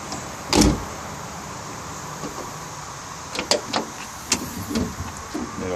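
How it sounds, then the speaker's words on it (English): A car door shuts after an LED lighting install, one solid thud close up, followed by a few lighter clicks and knocks. "so when I close the door"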